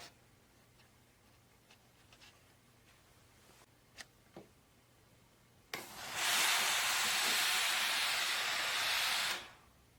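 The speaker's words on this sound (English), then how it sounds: "Now you're going to flip it over and iron the other side." A steam iron working on a collared shirt: faint ticks and clicks, then a loud sustained hiss of steam bursting out for about four seconds before cutting off, with no talking.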